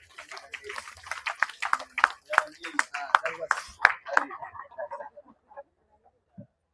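An audience at a meditation society gathering applauds: a burst of close, uneven clapping that thins out and tapers off into a few last scattered claps.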